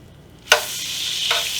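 Foam being skimmed off melted butter in a pan, heard as a sudden bright sizzle as the spoon dips in, then a steady close frying hiss with a second scrape near the end.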